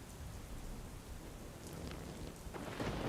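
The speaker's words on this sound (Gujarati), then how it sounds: "તાલાલા તાલુકામાં વરસાદ વરસ્યો છે" Heavy rain falls in Talala, Gir Somnath, a dense, steady roar of drops on surfaces that swells slightly louder toward the end, with no voices.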